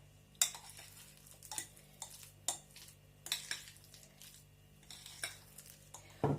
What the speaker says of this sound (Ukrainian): так все разом перемішаю